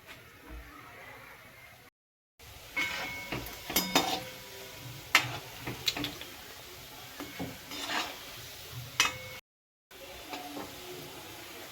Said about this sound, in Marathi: आता आपण एक एक असं तेलात सोडून देऊ ते गुलाबजामचे पोळे